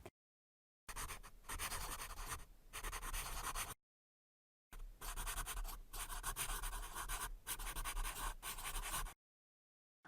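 Pen or pencil writing by hand on paper during a language lesson, a steady scratchy stroking in two long bursts separated by short pauses, close and alone with no talk.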